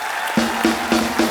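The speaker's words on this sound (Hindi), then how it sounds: "जोरदार तालियां हो जाए एक बार" Studio audience clapping and cheering on a comedy talk show set, a dense broadband wash with a few louder claps standing out rhythmically, brief and fairly close.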